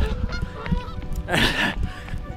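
An outdoor goose lets out a single loud, drawn-out honk close by, over a steady rumble of background noise.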